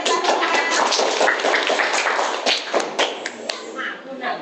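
Children in an Indonesian classroom clap their hands together in a quick burst of close, uneven claps with some taps and thuds, fading out near the end.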